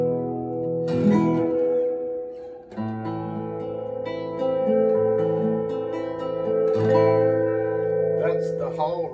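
A Yamaha CG-TA TransAcoustic guitar plays sustained chords with its hall reverb turned fully up, each strum ringing out long and loud in a spacious wash.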